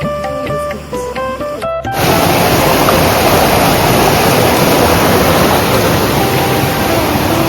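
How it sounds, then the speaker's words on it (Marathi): Deep water rushes downstream in a loud, steady roar near Devgad after a short musical passage at the start, the flow filling the rest of the clip without any talking. "जास्त डीप पाणी आहे आणि असं खाली वाहत वाहत वाहत वाहत खाली"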